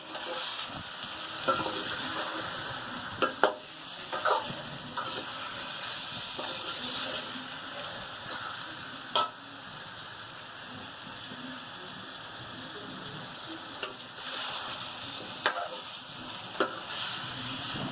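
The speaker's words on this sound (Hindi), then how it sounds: "अब इसको मिक्स करके नमक के साथ अदरक लहसुन के साथ इसको गोश्त को जो है ना हमें भूनना है।" Chicken pieces frying with salt, ginger and garlic in a pan for dhaba-style chicken bhuna, a continuous sizzle with scattered pops and stirring clatter throughout, no talking.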